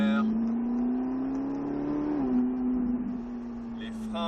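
A Ferrari F340 accelerates with a steady, close engine drone whose pitch climbs gradually then dips, while a voice talks over it.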